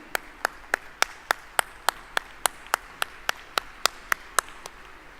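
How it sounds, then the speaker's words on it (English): Steady, evenly spaced hand claps, about sixteen in a row at a brisk even rhythm, crisp and fairly close, with no voices. "I think that applause should be much louder, ladies and gentlemen, for Kalamandalam Devi."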